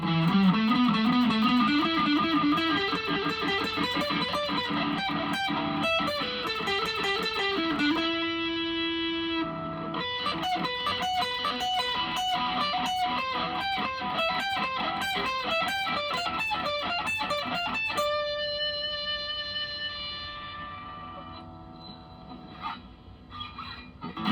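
Distorted electric guitar with a neck single-coil and bridge humbucker pickup combination plays riffs, bent notes and chord stabs, then rings out on sustained chords that slowly fade, loud and close with no talking.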